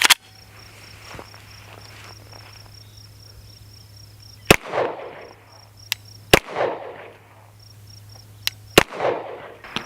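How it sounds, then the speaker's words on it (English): Rifle shots ring out while a GOWUTAR A20 red dot optic is zeroed outdoors. Several sharp, loud cracks are spaced a second or two apart, each with a short echoing tail, over a steady insect drone. "So we're going to put some rounds on target,"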